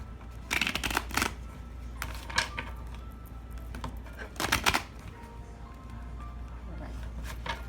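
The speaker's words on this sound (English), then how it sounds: "Just a quick shuffle, nothing too serious." A deck of tarot cards shuffled by hand in a few quick riffling bursts, close and crisp, with quiet pauses between them and no talking.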